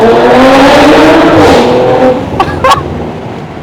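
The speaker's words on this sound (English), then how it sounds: "listen to how loud this thing gets" Audi RS5 engine roaring loudly in a tunnel, a sustained heavy rumble that rises and then eases off, ending with a couple of sharp crackles or pops; very close, reverberant and dominant.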